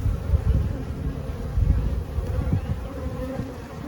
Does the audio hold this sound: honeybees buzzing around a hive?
yes